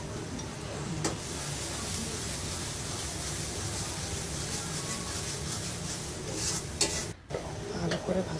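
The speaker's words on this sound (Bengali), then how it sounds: "ভালো করে ভাজতে হবে।" Ground spices, coriander powder and dried chilli powder, frying in a pan for a crab dish, a continuous sizzle with occasional stirring scrapes and clinks of utensil against pan, close and fairly loud.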